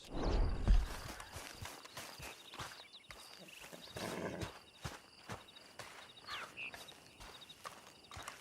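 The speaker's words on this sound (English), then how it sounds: "Come back here and get this horse." A horse in Red Dead Redemption 2 walks with soft, regular hoof thuds and shuffles, opening with a louder low snort or whinny, all fairly close against a quiet outdoor ambience.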